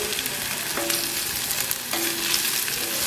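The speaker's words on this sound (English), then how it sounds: "I'm going to start adding my onions." Onions sizzle in rendered bacon fat for a New England clam chowder, a steady close frying hiss with a couple of tonal clinks from stirring.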